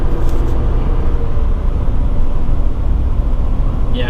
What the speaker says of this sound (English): I love the noise this truck makes. This truck makes a lot of noise. It's a loud diesel.